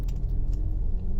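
Interior of a Skoda Superb driving in eco mode, a low steady engine and road rumble with no audible gear-change break, close and continuous without talk.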